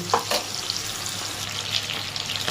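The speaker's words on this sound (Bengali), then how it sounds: "সবাই জানেন যে চিংড়ি মাছ বেশি ভাজলে শক্ত হয়ে যায় তো হালকা ভাজবো" Shrimp sizzle lightly in a pan, a close, even frying crackle with a couple of sharper pops near the start and no talking.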